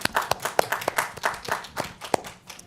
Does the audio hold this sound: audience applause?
yes